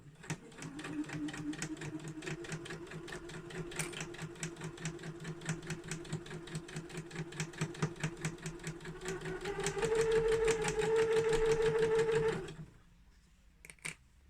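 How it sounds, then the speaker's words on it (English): A sewing machine stitching a drawstring bag runs in a fast, even rattle of needle strokes, speeding into a steady whir near the end before stopping, close and fairly quiet. "always make sure you put your presser foot back down before you continue sewing"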